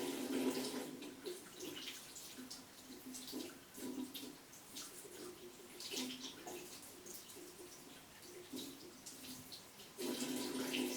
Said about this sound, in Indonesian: nyalakan keran